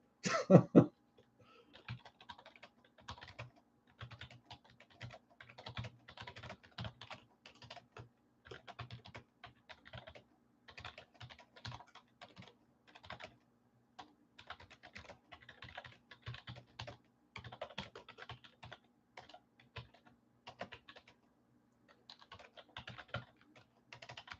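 Steady typing on a computer keyboard clicks away in quick irregular bursts, soft and close, running for over twenty seconds; a brief cough or throat-clear sounds near the start.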